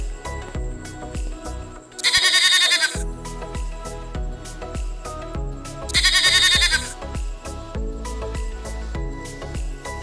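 Goat bleating twice in loud, vibrato-rich bursts over a steady backing of music, each cry lasting under a second and separated by a few seconds.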